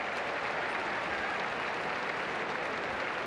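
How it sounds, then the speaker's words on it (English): Crowd applause at a 1987 rugby league preliminary final between Canberra and Easts as an injured player is wheeled off the field; steady, dense, distant clapping filling the stadium throughout, with no voices. "Good round of applause, and we're back with the action"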